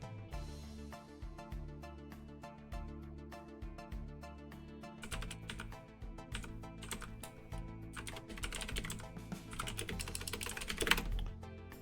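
Fingers type steadily on a computer keyboard while notes are being made, a quiet, continuous patter of key clicks that grows busier and slightly louder toward the end, with no voices.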